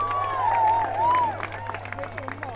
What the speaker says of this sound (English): let's give a huge cheer to the gallant, superb horseman that is Alexandre Léon of France